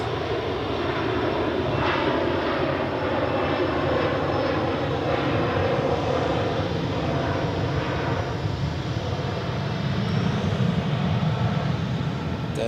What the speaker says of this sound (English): That was a Legacy 650, a modified Embraer 135.